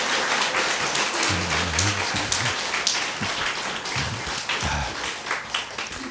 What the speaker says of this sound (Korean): 하나님께 영광의 박수입니다.